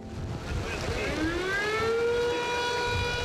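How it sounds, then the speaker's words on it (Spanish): A fishermen's guild siren wails in a long rising tone that climbs and then holds steady, sounding at a distance over a rumbling wind-like background. "La sirena de la cofradía era una forma más de solicitar esa liberación"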